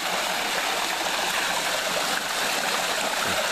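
A stream spills over a series of small waterfalls, a steady, close, full rushing and splashing of water with no voices.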